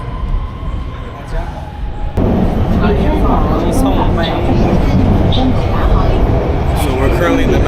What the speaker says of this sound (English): So we're currently in the metro